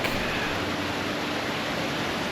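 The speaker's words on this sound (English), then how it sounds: "Little waterfall here by the back." Steady broadband rush of a small waterfall at Disneyland Resort, continuous and fairly close, with no pauses or other sounds.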